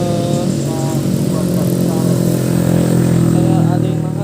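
A Honda CBR K45a motorcycle engine revs with a steady, loud mid-pitched drone and a slight clattery edge, running continuously close to the microphone while a voice talks faintly underneath.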